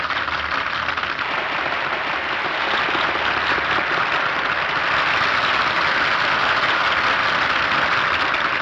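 Thin, scattered audience applause after a badly sung opera aria in Citizen Kane, a steady hiss of clapping from a sparse crowd that holds at an even level for the whole stretch, with no voices.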